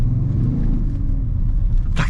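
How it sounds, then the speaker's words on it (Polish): A 2019 Audi S6 with a 3.0 TDI 349 hp diesel engine rumbles steadily while driving, a loud, deep, even drone inside the car with a brief burst of noise at the very end. "burczy sobie ten samochód ogólnie"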